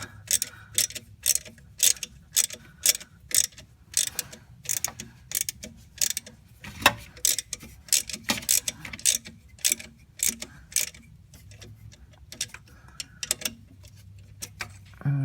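A socket wrench ratchets against rusted bolts on the alternator of a 1993 Jeep Wrangler 4.0, giving repeated bursts of sharp, close clicking in a steady rhythm with short pauses between strokes.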